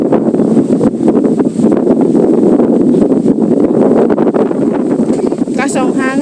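Strong wind buffets the microphone in continuous rumbling gusts outdoors at a fishpond, with people talking faintly underneath.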